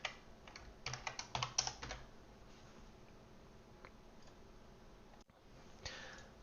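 Fingers type on a computer keyboard during Flutter coding work: a quick burst of close clicking keystrokes, then sparser single taps trailing off in a quiet room.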